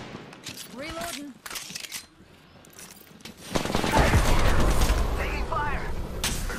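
Bursts of rapid automatic gunfire and mechanical weapon clatter in the Apex Legends video game, growing dense and loud in the second half, with a player talking over parts of it.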